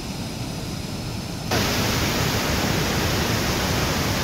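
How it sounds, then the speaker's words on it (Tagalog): A strong river current rushing steadily, a dense roar of flowing water that jumps louder partway through and then holds constant, with no voices. "Lakas ng agos."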